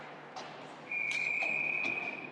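Referee's whistle at an ice hockey game, a long steady shrill blast sounding over crowd noise.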